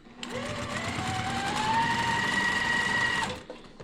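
Sewing machine stitching quilt block pieces, a steady fast mechanical whir and needle rattle running continuously for about three seconds before stopping, close and without talk.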